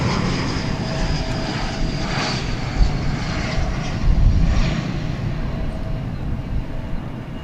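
An airplane passes over a runway at DFW Airport, its steady engine roar swelling slightly midway and holding throughout, with no voices.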